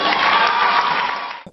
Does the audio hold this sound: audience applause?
yes